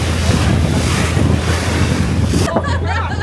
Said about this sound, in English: it is a windy day